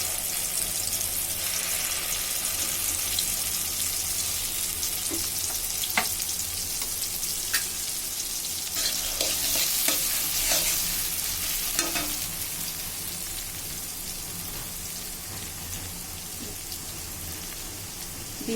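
A paste of black and white mustard, poppy seeds and cashews fries in a pan for mustard hilsa, sizzling in a continuous rain-like hiss with occasional clicks and scrapes, no voices.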